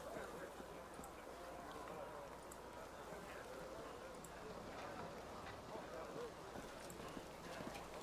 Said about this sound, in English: Just like hop on a horse and take off?